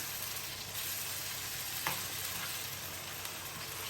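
Tomatoes softening in a pan for Spanish paella, a faint continuous sizzle with an occasional soft tap of a spoon, fairly quiet and steady throughout.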